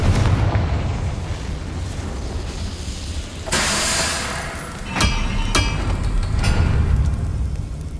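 Confringo explosion spell cast in Hogwarts Legacy on PS5, a sudden booming blast over a dense game ambience followed by a few sharp crackling pops, loud and close.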